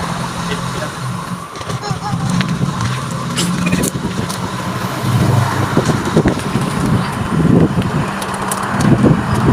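A car driven along the road to Kabagan during a driving lesson, its steady engine and road rumble close and continuous throughout, with people talking over it.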